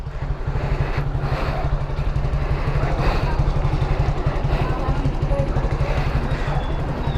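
A motorcycle engine, freshly serviced with an oil change, new air filter and contact cleaner, idles close by with a steady, rapid low chug, running continuously and fairly loud throughout.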